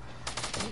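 Gun firing in a video game: a quick run of sharp, loud shots that starts partway through and repeats in a rapid burst over a low background hum.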